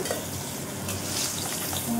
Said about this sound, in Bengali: খুব লাল লাল করে ভাজছি না,